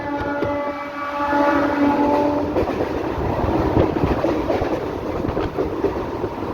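A passenger train runs at speed with steady rumbling and rhythmic wheel clatter heard from on board, and a brief horn tone sounds at the start.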